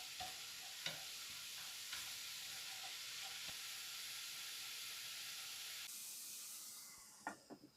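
Spinach cooks in a pan with a splash of added water, giving a loud steady sizzle and steamy hiss with a few scraping stirs, before the noise drops away near the end.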